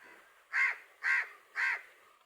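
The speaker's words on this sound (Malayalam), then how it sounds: "കാക്ക വിളിക്കുന്നത്." A crow caws three times in an even rhythm, each call loud, harsh and clear against a quiet background.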